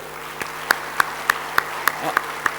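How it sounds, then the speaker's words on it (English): Parents are applauded at a college freshers' induction programme, heard as a short run of evenly spaced, rhythmic claps, fairly near and distinct rather than a dense crowd roar. "Let's give a big round of applause to these heroes."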